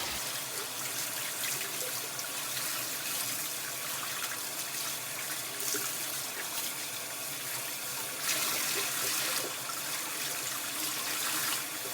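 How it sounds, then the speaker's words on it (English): Tap water runs steadily over a bleached tie-dye shirt being rinsed in a sink, a continuous close splashing and trickling hiss that swells slightly near the end, with no voices. "We want to keep rinsing until the water is clear."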